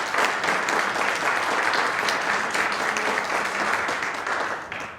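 An audience at a community Black history awareness program breaks into dense, sustained applause, a loud wash of many hands clapping together that fades slightly at the end.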